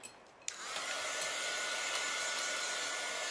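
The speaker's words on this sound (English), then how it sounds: "We're gonna run a dryer over this" A hair dryer switches on and blows steadily over a chalk paint transfer, a loud close whooshing hiss that holds constant without talk.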